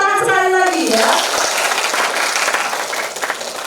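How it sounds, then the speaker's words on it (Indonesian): Audience applause at a seminar, a sustained wash of clapping that follows speech and fades gradually toward the end. "Tepuk tangan sekali lagi ya."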